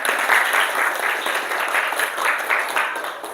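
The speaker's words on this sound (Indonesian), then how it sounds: "Oke, tepuk tangan buat kita semua" A group of students claps together in a steady round of applause, close and lively, with bursts of rhythmic clapping and faint voices underneath.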